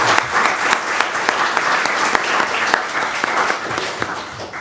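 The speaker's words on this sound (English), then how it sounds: "I'd kindly ask you to please join me in a round of applause to our panelists today." A conference audience at an international carbon markets summit applauds panelists, a steady wash of many hands clapping throughout with no pause.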